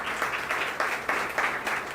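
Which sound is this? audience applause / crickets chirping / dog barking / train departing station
audience applause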